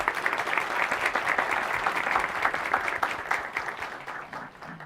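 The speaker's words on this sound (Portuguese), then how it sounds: "Uma salva de palmas." Students at the Brazilian Chamber of Deputies give a round of applause, a dense, even wash of clapping that holds steady, then thins and fades near the end.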